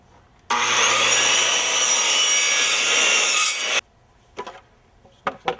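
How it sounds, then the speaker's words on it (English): A saw makes the first cut in a board for a soffit and fascia repair, one loud continuous rasping stroke lasting a few seconds, followed by quiet and a few knocks as the wood is handled. "now I'm going to make the first cut"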